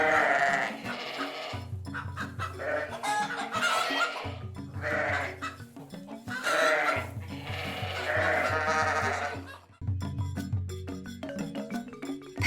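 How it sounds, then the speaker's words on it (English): A sheep bleats close by, making several drawn-out baas with short silent gaps between them and a low steady tone beneath, with no talking. "Sheep like Bailey graze on grass and make a cute baas sound."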